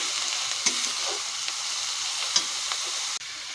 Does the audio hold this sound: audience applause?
no